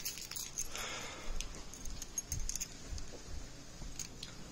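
Keys jangle in quick, bright bursts close by, with light metallic clinks scattered across a few seconds against a low indoor rumble.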